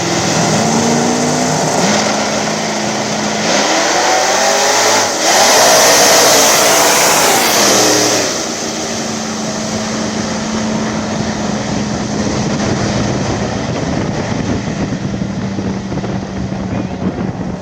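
ProCharged S10 and Turbo Mustang drag racing cars launching side by side at a Dig Days small tire event, a loud sustained engine roar with wind buffeting, rising sharply midway and then holding steady.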